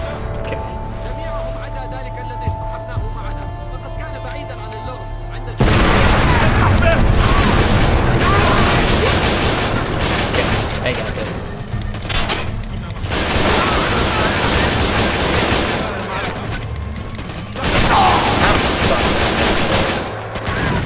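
Gunfire from the stealth shooter Splinter Cell Conviction: loud bursts of shots and booms in a game firefight, starting after a quieter opening stretch. A player talks over the gunfire.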